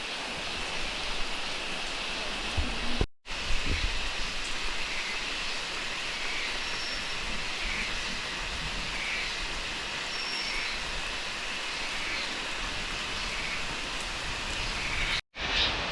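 Heavy monsoon rain pours steadily in Munnar as a dense, loud, even roar of noise that runs almost without a break. There are two short cuts to silence, and no voices are heard.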